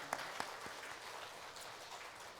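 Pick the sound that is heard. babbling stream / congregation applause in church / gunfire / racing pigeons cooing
congregation applause in church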